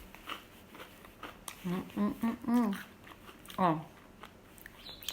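Toast spread with strawberry pineapple jam is bitten and chewed near the microphone, a few crisp crunches spread over several seconds, with a brief word spoken.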